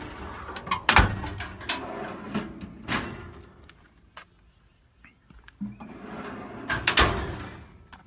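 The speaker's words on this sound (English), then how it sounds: "drawer operation is real smooth" Drawers of a 72-inch Harbor Freight US General steel toolbox sliding open and shut several times, with sharp clunks as they close and softer rolling between, fairly close.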